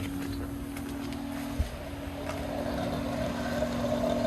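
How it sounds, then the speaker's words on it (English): The electric fuel pump of a 1984 Volvo 240 hums steadily while flushing the fuel lines. The whine is continuous and close, with a single small knock partway through. "All right, we're testing the other pump now."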